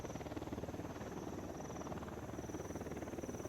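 A drone hovering in a video game gives off a steady pulsing buzz with a fine rapid flutter, continuous and moderately quiet, with a thin high whine running over it.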